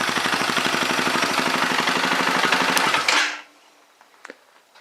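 KTM 525 motorcycle engine idling right after a cold start with no choke, a loud, close, rapid thumping pulse that holds steady and then cuts off abruptly, leaving near silence with a few faint clicks.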